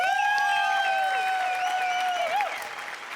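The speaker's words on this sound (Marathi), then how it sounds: "सगळ्यात आधी जोरदार टाळ्या विनायक पुरुषोत्तमसाठी" Loud, dense studio audience applause for the writer Vinayak Purushottam on a Marathi comedy stage show fills the stretch, with a sustained musical tone sounding over it before the clapping eases toward the end.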